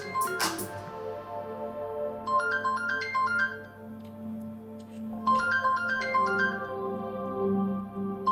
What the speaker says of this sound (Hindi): या तो आप अपना फोन उठा लें या फिर इसको बंद कर दें।